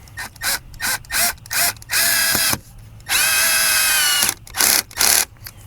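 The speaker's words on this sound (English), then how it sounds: "Make sure you drill deep enough that the screw will go in and not bottom out." A power drill whirs in a series of short bursts, then two longer sustained runs, drilling a pilot hole for a screw while replacing an outdoor spigot, loud and close, with brief pauses between.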